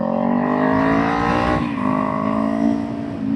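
A motorcycle engine held in third gear through a corner, close and loud, its steady harmonic drone sagging briefly in pitch midway and then climbing again.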